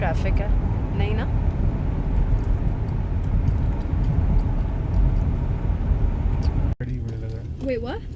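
Steady road traffic with cars passing at night near a restaurant in Canada, a continuous broadband rumble, with people talking over it and a brief break near the end.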